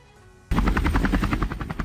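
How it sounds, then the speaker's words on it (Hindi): A helicopter comes in to land at a college helipad in Ayodhya, its rotor chop starting abruptly and pulsing loud and rapid, steady and close with no voices. "प्रधानमंत्री मोदी का हेलीकॉप्टर अयोध्या के साकेत महाविद्यालय में बने हेलीपैड पर लैंड हुआ।"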